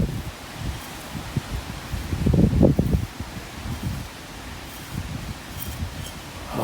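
Gusty wind blows outdoors at a bottle dump dig in Fife, Scotland, a steady low rumble of buffeting against the microphone that swells loudest midway, with rustling throughout and no talking.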